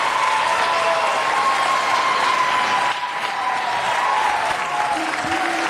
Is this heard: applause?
yes